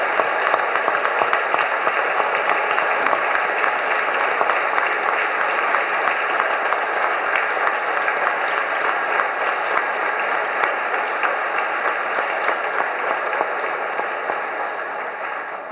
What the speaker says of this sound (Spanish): Yo quisiera que le diéramos desde ya un gran aplauso a nuestro hermano.